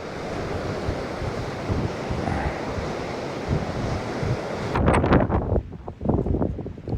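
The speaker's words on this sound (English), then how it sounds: "The water keeps almost going over this pier." Sea waves surge and wash against a pier on the Cornwall coast, a loud continuous roar with wind buffeting the microphone and a heavier splashing rush near the end.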